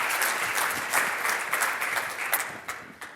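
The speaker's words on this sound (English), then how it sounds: "I want to just give you a round of applause" Audience applause at a marketing conference: a steady wash of clapping from a room of people, holding fairly even for a few seconds with scattered louder claps standing out.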